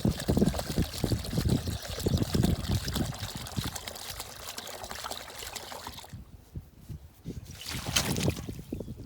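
Water pours and splashes onto soil around a newly planted pear tree, a steady rushing trickle at close range that briefly drops off then resumes.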